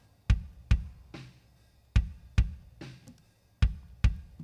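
Worship-style kick drum processed with a low-mid cut and an attack boost near 4.7 kHz, hitting seven times in a clean, punchy pattern of paired beats, close and dry with no voices.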